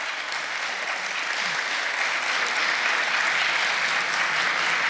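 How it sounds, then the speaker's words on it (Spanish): Audience at a forum applauding loudly and steadily, a dense clapping that holds at full strength throughout with no speech over it. "esto merece un fuerte voto de aplausos a nuestro Congreso"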